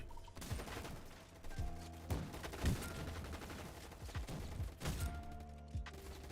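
Rapid bursts of gunfire from a gun in a Roblox first-person shooter, loud, close shots in quick clusters with a few heavier thuds mixed in.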